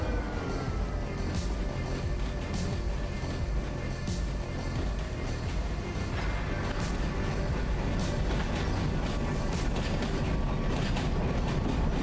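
An ST44 locomotive in the train game Derail Valley rumbles steadily along the rails, a continuous deep engine drone layered with faint rhythmic wheel clicks, with no talk.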